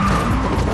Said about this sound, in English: Jason starts to brake, but he barely slows down.